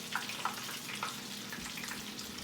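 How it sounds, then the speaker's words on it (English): Hot Flamin' Crunchy Cheetos-coated chicken legs frying in oil make a steady, close, crackling sizzle that continues without pause, with a few sharper pops. "So I'm gonna let that fry and get where it's supposed to be done."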